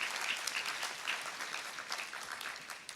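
A large commencement audience at a business school postgraduate ceremony claps continuously, a dense, even wash of applause from many hands heard at a slight distance with no talk over it.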